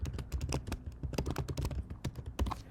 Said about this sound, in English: So you would type that in